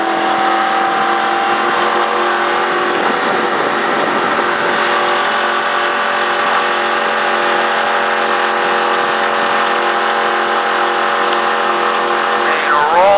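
A NASCAR race car engine holds steady at high RPM, a loud continuous drone with layered harmonics that stays level throughout, rising slightly right at the end.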